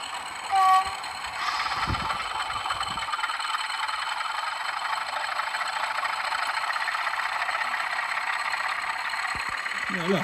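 A Bachmann Class 40 model locomotive sound unit runs on a garden railway, producing a steady, fairly loud diesel engine drone with a rattling texture, preceded by a brief knock near the start.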